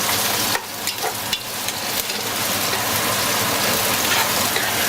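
Onions sizzle steadily in thyme-infused oil in a pan, a dense close frying hiss with a few brief clatters as they go in, and no talk.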